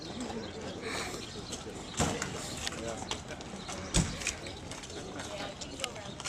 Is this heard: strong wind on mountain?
no